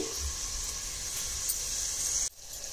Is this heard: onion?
yes